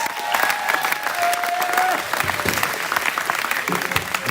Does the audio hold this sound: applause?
yes